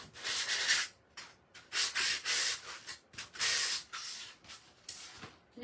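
Hand sanding the inside of a small craft birdhouse, with repeated bursts of gritty rubbing strokes separated by short pauses, close and fairly quiet, no talking.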